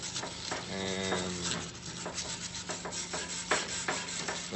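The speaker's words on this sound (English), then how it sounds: "I'm gonna try to just get all the loose stuff off of here with a wire brush." A wire brush scrubs loose rust and grime off an old J H Williams wrench, giving a steady, close scratchy rubbing that rises into short rasping strokes, alone and at moderate level.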